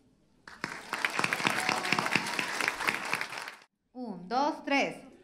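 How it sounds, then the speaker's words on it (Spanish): An audience at a Club Car testimonial event bursts into loud, sustained applause that lasts about three seconds and then stops abruptly, after which a voice speaks alone. "Un aplauso para ellos."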